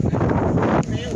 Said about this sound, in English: So, it's windy out here,